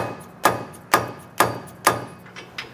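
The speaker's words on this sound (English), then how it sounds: "A little bit more tapping" A hammer taps an EcoHitch hidden front-mount trailer hitch receiver into place on a 2011 Ford F-350: four sharp, evenly spaced metallic knocks about half a second apart, then a lighter fifth tap, over quiet background hum.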